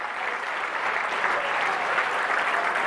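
Sustained applause from a gala charity auction audience right after the final hammer falls, a dense, steady wash of clapping filling the room for the full length.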